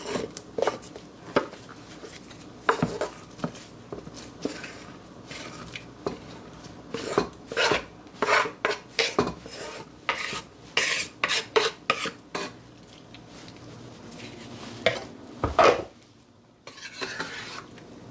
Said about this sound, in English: Now I'm going to add my pumpkin. I grate some of it and I leave some in cubes.